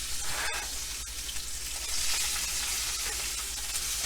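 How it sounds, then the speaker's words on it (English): Tomahawk beef ribeye searing in a hot pan, a steady bright sizzle and spatter held at an even level, with a couple of sharp clicks early on, close and without speech. "Now I'm going to sear the sides."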